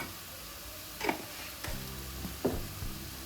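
Turmeric powder being stirred into a softly sizzling yam masala in a pan, with a few scraping spoon strokes over a low frying hiss.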